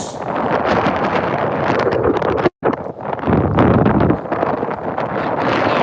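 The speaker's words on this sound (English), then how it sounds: "See all the leaves blowing around now with the wind whipping up." Strong wind gusts roar across an outdoor soccer pitch during a boys' high school match, buffeting the microphone with a steady broadband rush and blowing leaves, broken by one brief dropout.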